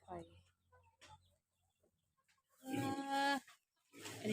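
Farmyard chickens cluck during evening feeding: scattered short clucks near the start, then a loud human voice talking over the birds.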